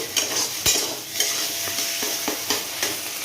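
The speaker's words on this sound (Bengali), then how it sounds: "একদম ভালো করে এটাকে ভেজে নিয়েছি" Taro leaves stir-fried in a pan, a steady sizzle under repeated scraping strokes of a spatula roughly every half second, close and moderately loud.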